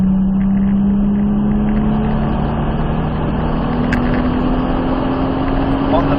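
A Nissan Skyline R34 GTR engine revs loud and close as it accelerates, its pitch climbing steadily under throttle throughout.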